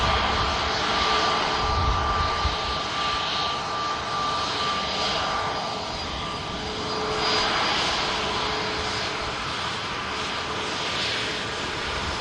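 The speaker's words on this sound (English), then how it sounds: "the Emirates A380 is now on the move" Emirates Airbus A380 moving at Manchester Airport, heard as a continuous broadband jet roar with a whining tone. The sound swells and fades slightly as it taxis some distance away.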